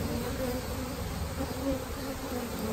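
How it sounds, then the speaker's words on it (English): A large swarm of bees hums steadily inside a swarm trap holding drone comb, brood and honey, a dense close buzz with no talk over it. "Look at all these darn bees."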